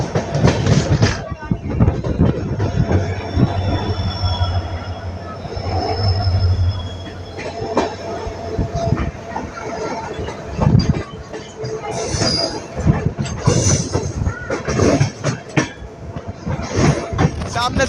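A train runs along railway tracks at New Delhi railway station with rumbling wheels, clickety-clack joints and brief wheel squeals. The sound is loud and near and continues throughout, with a voice talking over it.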